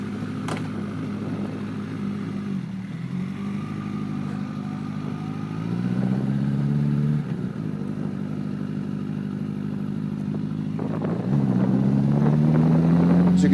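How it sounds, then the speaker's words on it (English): A 2008 Honda CBR1000RR sport bike ridden through a neighborhood under construction, its engine droning steadily and rising in pitch through the gears, with wind rush throughout, close and loud. "Of course, we're on the 2008 CBR1000RR. Looks like we're about there now, so let's go for a quick ride."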